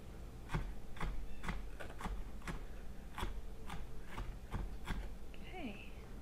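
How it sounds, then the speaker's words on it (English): A knife cutting Tokyo Bekana greens the way green onions are sliced, about a dozen steady, evenly spaced chopping strokes close by, with a short squeak near the end. "I think I'm just gonna cut them up like green onions."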